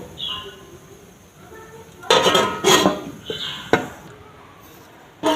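Metal lid set onto a pot of powdered-milk rasmalai simmering in sugar syrup, heard as a few sharp clanks and rattles at uneven intervals after quiet stretches, close and fairly loud.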